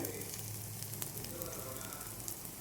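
A beaten egg mixture fries in a little oil in a pan for a Kerala mutta ada curry, giving a soft steady sizzle with light crackles, faint and continuous, with a quiet voice underneath.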